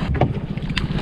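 A small boat pushes back against the wind on open water while crabbing with crab pots, giving a steady close rumble of hull and water with gusty wind buffeting the microphone throughout.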